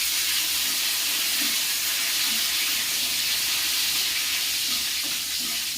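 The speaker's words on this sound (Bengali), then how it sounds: "তো আমি কারি পাতাটা প্রথমে ভেজে নেব।" Curry leaves fry in a hot pan with a continuous bright, crackling sizzle that stays loud and steady from start to finish, with no voices.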